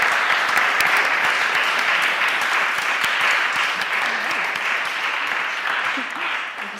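A large audience applauds a former White House chief speechwriter as guest speaker, a dense, sustained wash of clapping with voices murmuring underneath, tapering slightly at the end.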